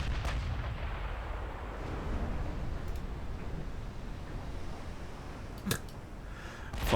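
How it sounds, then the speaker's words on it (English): Six-inch naval guns fire in a dreadnought naval battle game, heard as distant dull booms and rumble over a low, steady background, with a sharper crack near the end. "I don't think we even fired a single shot until just now with the 6-inch guns."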